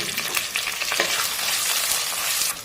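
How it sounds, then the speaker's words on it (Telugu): Cleaned dried fish frying in hot oil, a loud, dense, continuous crackling sizzle with bubbling spatters, close up and alone, no voices. "ఇప్పుడు క్లీన్ చేసుకున్న ఈ నెత్తలను వేసుకుని ఆయిల్లో ఫ్రై చేసుకుని తీసుకుందాం."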